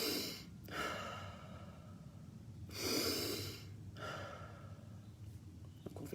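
Slow, deep breaths during a belly-then-chest breathing exercise, alternating long airy inhales and relaxed exhales, close and fairly quiet with no talking.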